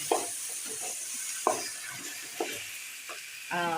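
Okra for a masala curry is sautéed in a pan over a steady background sizzle, with a spatula scraping in a loose rhythm of four or five sharp strokes and a brief clatter at the end.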